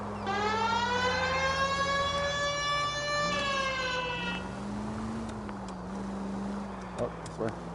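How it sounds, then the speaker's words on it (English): A police siren from the L.A. Noire video game wails in a steady rising-and-falling tone for about four seconds, then fades into a lower drone while a person talks over it. "You hear the siren?"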